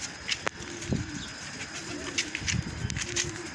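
Pigeons coo softly in a loft, several low throaty calls spaced across the moment, with faint chirps, rustling and a wing flutter in the background.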